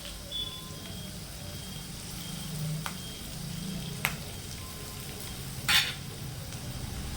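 Dried red chillies fry in a tempering for an amaranth and sesame-cake curry, giving a soft, continuous sizzle with a few sharp clicks of a utensil against the pan.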